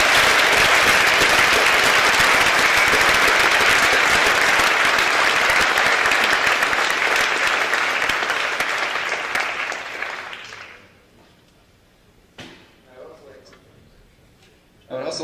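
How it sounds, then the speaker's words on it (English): Sustained applause from an audience at a university Formula SAE race car unveiling, loud and dense for about ten seconds before fading into a quiet room with a few scattered claps at the end. "I would just like everyone to give them another round of applause."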